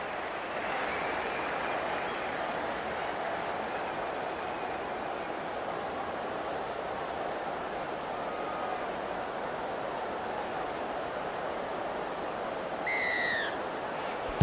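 A packed rugby league stadium crowd roars steadily at kickoff of a 2025 Round 21 Panthers versus Wests Tigers match, a dense, even wall of cheering that holds throughout, with a brief whistle-like call near the end.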